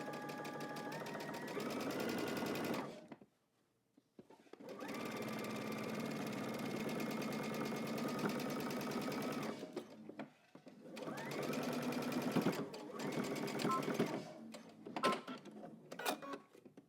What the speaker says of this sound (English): I'm going to back stitch at the beginning.